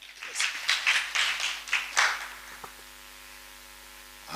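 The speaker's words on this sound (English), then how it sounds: "Give a clap, a bigger clap." A small audience at a class reunion gathering claps in several short loud bursts that die away, leaving a steady electrical hum.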